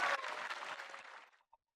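A short burst of clapping from an audience for a pair of twin dangdut singers on a TV variety show, strongest at the start and quickly fading to a single last clap.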